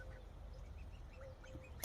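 Ducks quacking faintly at a garden pond, scattered short calls at a distance over a low steady background rumble.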